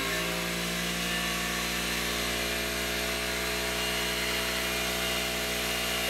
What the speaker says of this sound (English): On the upside, I did buy myself a new compressor.